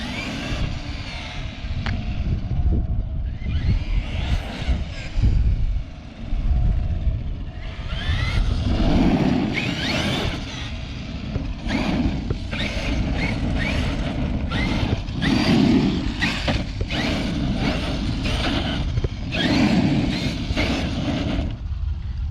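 A Traxxas X-Maxx, a large RC monster truck, runs around an open park. Its electric motor whines and revs in repeated bursts, with rumbling tires and bumps over the ground and no speech.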